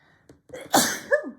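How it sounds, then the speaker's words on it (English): A single loud sneeze, close up, with a short inhale before the burst and a brief vocal trailing sound after. "I'm going to sneeze"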